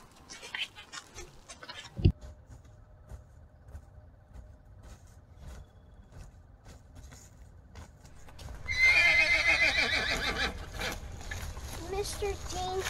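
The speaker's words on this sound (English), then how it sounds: "Mr. Dean, that sure did sound like galloping" Hooves from a galloping horse clatter in a clip-clop rhythm with a neigh, in a spooky Halloween movie scene. The sound rises from faint to louder and denser, and people talk over it.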